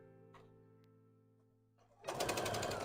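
After a quiet stretch with a faint hum and a couple of small clicks, a sewing machine starts up, stitching pink fabric for a small Boo Kirby plush tongue, and runs loud and steady to the end.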